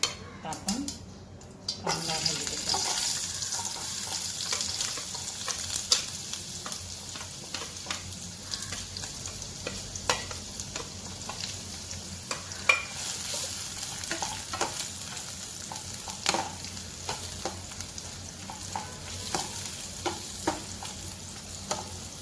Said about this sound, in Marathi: आपण कांदा परतून घेऊ